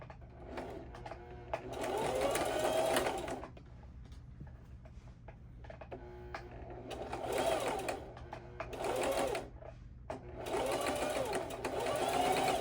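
Sewing machine running a walking stitch along bias tape on a skirt, close and steady mechanical whirring in four separate bursts of a second or two each, with quiet pauses and faint handling noises in between.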